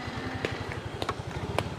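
A motorcycle engine putters with a steady, rapid low pulse while riding through a street in Penang, Malaysia, with faint passing sounds around it.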